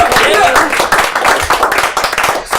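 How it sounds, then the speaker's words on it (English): A comedy club audience at a live stand-up show claps for a comedian, a dense, loud burst of clapping and crowd noise lasting a few seconds. "give her a round of applause"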